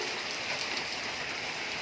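Heavy rain pours down steadily in Hyderabad during a windstorm, a dense continuous hiss of drops hitting surfaces close by, with no voices.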